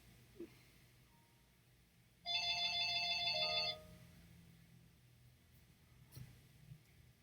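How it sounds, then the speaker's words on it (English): A telephone rings once, a short electronic trill lasting about a second and a half, clear against a quiet room, with no one speaking. "God, I hate the phone."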